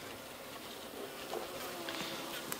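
Honeybees around a newly installed nuc hive, a steady dense buzzing hum filling the air close by, continuous and even throughout.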